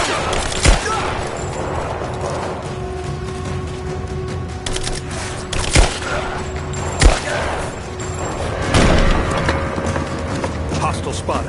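Gunfire in the video game Rise of the Tomb Raider: a few sharp shots ring out at irregular intervals, with one burst near the end, over a steady game ambience and intermittent voices.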